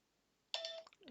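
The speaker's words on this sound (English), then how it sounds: "that's my alarm to take a medication" A medication reminder alarm going off briefly, a short electronic chime or beeping tone that starts suddenly and sounds faint and thin, with no talking over it.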